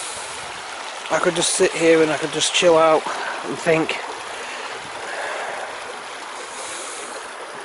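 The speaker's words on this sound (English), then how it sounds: "that sound of the water running like that." Water running in a stream on a countryside walk, a soft continuous rush heard under a man's close speech and carrying on alone afterward.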